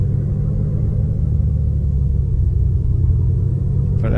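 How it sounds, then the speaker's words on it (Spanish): A truck engine in Euro Truck Simulator 2 rumbles steadily at idle, a deep, even, close drone that holds unchanged for about four seconds with no talk over it. "Me encantan estos sonidos de estos camiones."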